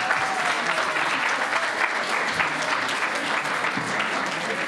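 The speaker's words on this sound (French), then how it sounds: "Je pensais que vous allez applaudir." An audience applauds a winning quiz team at a competition, dense continuous clapping at moderate loudness that holds steady for several seconds.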